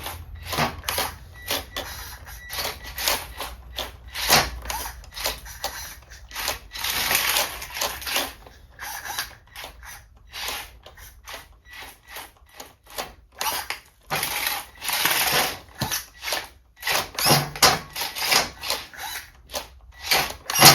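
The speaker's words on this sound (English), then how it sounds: "it can also use the lifter to clamp down like that because it has two little tiny forks in the front" A 1 pound lifter combat robot with two tiny front forks works its lifter, giving a fast series of clicking, scraping and rattling mechanical taps, close and irregular, with no talk.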